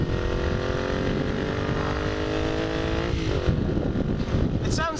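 Honda CX motorcycle engine droning steadily while being ridden, a loud continuous multi-toned hum with a shift and dip near the three-second mark, wind rush throughout.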